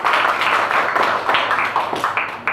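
Classroom audience giving a debate speaker applause, a short burst of many hands clapping close by, fairly even, with a faint voice in the background.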